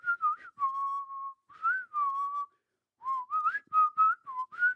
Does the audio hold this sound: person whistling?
yes